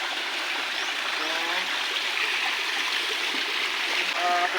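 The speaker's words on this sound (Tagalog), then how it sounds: "Nandito ako sa creek, no? May mini waterfall." Water from a small creek waterfall pours and splashes steadily and close by, a constant broadband rush with bright gurgles on top and no talking.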